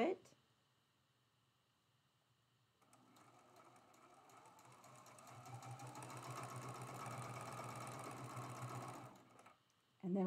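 A sewing machine stitches pieced blocks for a slanted diamonds quilt, starting after a pause and running steadily at a fast, even hum for about six seconds before stopping, with faint speech at the start and end.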